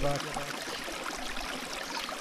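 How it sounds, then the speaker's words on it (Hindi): Canal water flows and babbles in a steady, continuous rush that fills the whole stretch at an even level, with no voices present. "बहते हुए पानी की कलकल की आवाज़"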